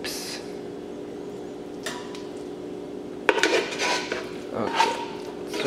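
Soft scraping and clinking of a spoon in a baking dish as garlic mashed potatoes are scooped onto a shepherd's pie in a small home kitchen, near and moderately loud, with a few bursts of utensil contact against the dish.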